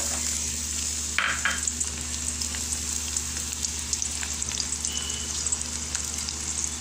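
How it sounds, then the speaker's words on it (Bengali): Chopped onions hit hot oil in a pan and fry with a steady, close sizzle and crackle, stirred occasionally, with no voices. "এবার আমরা এতে কুচি করে রাখা পেঁয়াজগুলো ঢেলে দিব"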